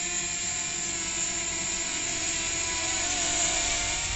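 A DJI Mavic Mini 2 drone flying in rocket mode gives a steady, high-pitched propeller whine with a layered tonal buzz, continuous and even throughout at a moderate distance, with no talking.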